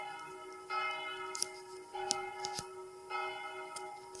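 A single church bell of Saint-Sylvestre church rings the Angelus, distant, steady strokes of about one every second with a long humming decay in a quiet outdoor setting.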